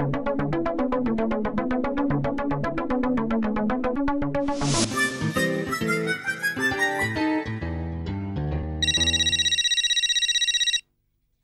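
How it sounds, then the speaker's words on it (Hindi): A mobile phone ringtone plays a bright, tuned musical melody that climbs and shifts, then ends in a loud, steady electronic trill before cutting off. "ये देखो जेठालाल का फोन।"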